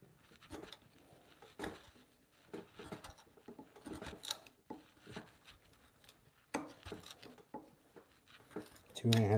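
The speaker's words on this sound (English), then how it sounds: "I usually start by trying to pare it out by hand and see what I can get out." Wood pared by hand with a chisel while cutting dovetails in a quiet workshop, with soft, close, repeated scraping and shaving strokes at an uneven rhythm and a few light knocks.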